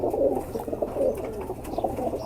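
A female pigeon coos close by in soft, low repeated phrases, three or four rolling calls over a couple of seconds with no one speaking.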